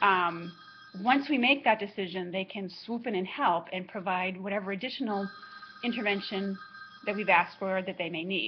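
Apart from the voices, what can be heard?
telephone ringing in the background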